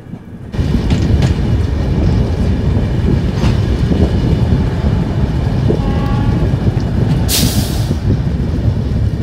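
Passenger train running from Kolkata toward Dibrugarh in foggy conditions: a loud, steady rolling rumble with rail clatter that starts abruptly after half a second and continues without pause, with faint squeals and brief hisses, no talking.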